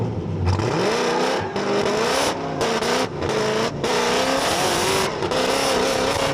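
A twin-supercharged LS-powered race car roars hard through repeated upshifts, its engine note climbing and dropping in loud, close bursts with brief gaps between gears.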